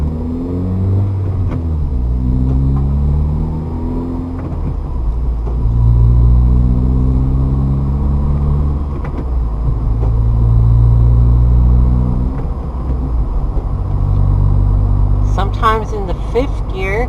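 Car engine through a manual gear upshift, the engine note rising then dropping at each gear change in repeated sweeps, with a voice talking over the steady rumble.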